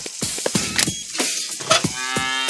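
A bull lows in the video game Deponia: several short, loud moos and grunts follow one another close up over a brief stretch, with game effects mixed in and no talk.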